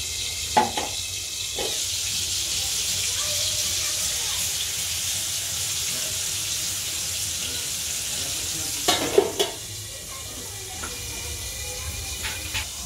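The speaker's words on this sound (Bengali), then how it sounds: "এবার সেই খয়রা ইলিশ মাছটা যে রেখেছিলাম ভাজবো।" Khoira hilsa fish and prawns fry in oil in a wok, giving a steady hiss and sizzle throughout, with a few brief clatters of stirring or utensils.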